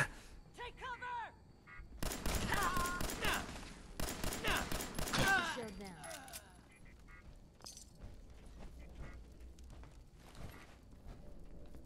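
Gunfire in the modded video game Fallout 4 comes as two dense, loud bursts of rapid shots, followed by scattered fainter single cracks; a voice speaks briefly near the start before the shooting.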